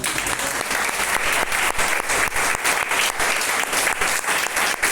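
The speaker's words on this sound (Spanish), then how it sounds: "Yo le daría un aplauso al Señor." A church congregation applauding during a worship service, a loud, dense and continuous roar of many hands clapping with a few sharper individual claps standing out throughout.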